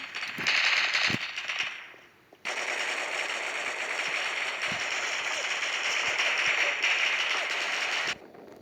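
Rapid bursts of gunfire in the Roblox game Lost Front crackle in near-continuous volleys, loud and dense, with a brief lull before the shooting resumes and runs steadily to the end.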